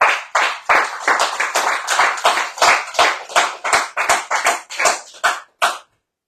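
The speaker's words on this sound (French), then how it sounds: "eh ben nous on les oublie pas parce qu'on les applaudit" Several people clap together outdoors in an evening tribute to care home workers, a steady, fairly close round of hand claps with slightly uneven rhythm that thins out and stops after about six seconds.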